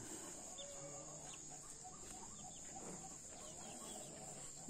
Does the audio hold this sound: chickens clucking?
yes